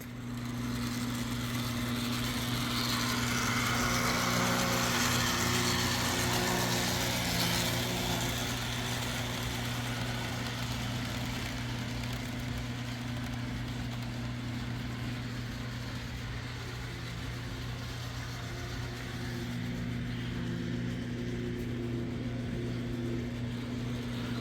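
A model GE E60CP electric locomotive with a new motor runs steadily on a layout while pulling cars, giving a continuous motor hum with a faint rolling clatter. The sound is fairly even and unbroken, and no one speaks.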